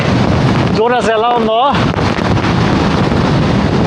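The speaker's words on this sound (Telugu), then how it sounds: "సముద్రం మధ్యలో తుఫాన్లో మా బోట్ ఇరుక్కుపోయింది గైస్" Strong wind roars steadily across the microphone with a churning, open-water rush on a boat caught in a storm at sea off Lakshadweep, while a voice speaks briefly over the gusting noise.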